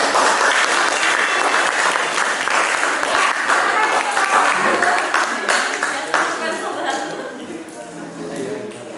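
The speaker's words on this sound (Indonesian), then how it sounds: "Untuk kelompok 1, boleh kasih tepuk tangannya?" A group in a classroom-style presentation receives a round of applause, loud and dense at first, then thinning and tapering off, with a few chuckles and voices mixed in toward the end.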